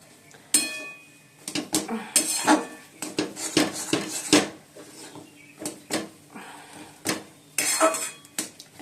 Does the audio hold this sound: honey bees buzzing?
no